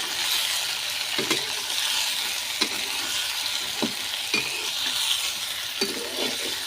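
A spoon stirring pumpkin sabzi frying in a pan, steady sizzling hiss throughout with a few soft scraping strokes spaced every second or so, close and without speech.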